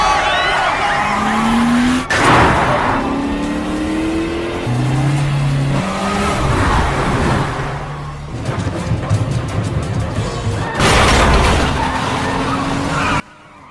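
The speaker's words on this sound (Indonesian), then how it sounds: "Mereka memacu mobil sampai ke stasiun bawah tanah." Cars roar past at speed with engines revving and tires squealing, heavy whooshing surges rising and falling throughout, loud and close.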